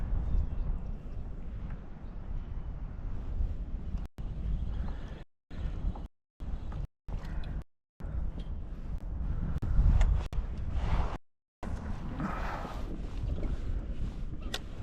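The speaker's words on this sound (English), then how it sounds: "just the wind blowing that line is dragging my lure" Wind gusts across the microphone while someone fishes from a pedal boat on the Yadkin. The rumble and buffeting are strong and steady, with several brief dropouts to silence.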